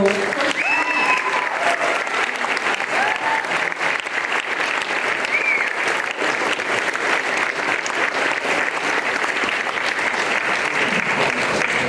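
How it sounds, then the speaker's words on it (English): Audience applause at an event, dense and continuous clapping that stays loud and even throughout, with a faint voice or two briefly over the top near the start. "so now I'm going to introduce Coach Trevino, who also deserves a round of applause"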